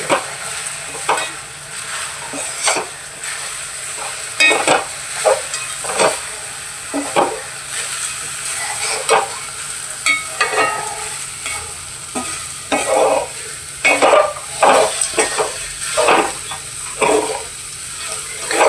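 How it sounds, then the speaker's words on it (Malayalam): Flattened rice (aval) being stirred in a pan while making sweet aval vilayichathu, repeated scraping and shuffling strokes in an uneven rhythm over a soft background sizzle, close and fairly loud, no voices. "ഇനി നമുക്കിതിലോട്ട് അവല് ചേർത്ത് കൊടുക്കാം അവലിട്ടിട്ട് നന്നായിട്ടൊന്ന് മിക്സ് ചെയ്ത് എടുക്കാം"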